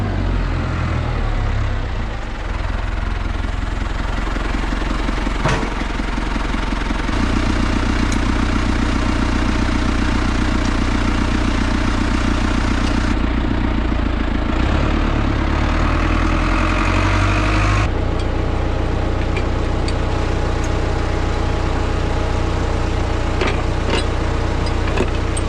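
A Case tractor engine drones steadily as it drives up the road, a heavy low rumble with changes in load and a few knocks and rattles along the way.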